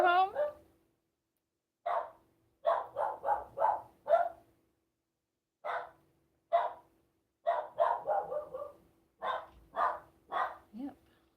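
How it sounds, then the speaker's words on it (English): A dog barks in short bursts and quick clusters, close by and sharp, with brief quiet gaps between volleys and a few whimpery yips. "Who are you barking at?"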